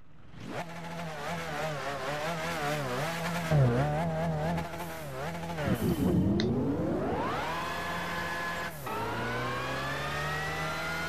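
A BMW McLaren F1 GTR '97 race car in Gran Turismo 5 revs loudly and accelerates from a standing start, its engine note climbing through the gears with sharp pitch drops at each shift, close and continuous with no talk.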